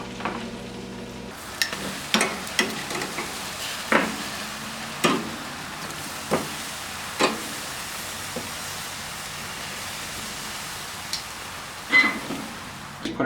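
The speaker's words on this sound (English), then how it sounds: "Now we're just going to lean the pan over and put a little more butter on the top." Potatoes baste in butter in a tilted pan, giving a soft steady sizzle broken by sharp spoon clinks and taps at irregular intervals, fairly quiet and without talk.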